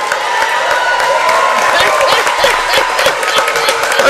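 Crowd at a girls' CYO varsity basketball game in a gym, cheering and clapping for a player introduction, with steady applause and whoops throughout, mixed with announcer talk.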